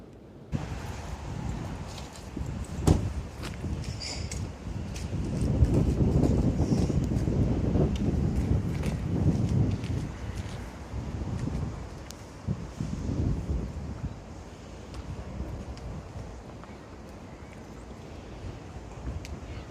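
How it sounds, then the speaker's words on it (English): Gale-force wind on a stormy day gusts outside, heard from indoors as a steady low roar with surging swells. "We just started getting some gale strength winds."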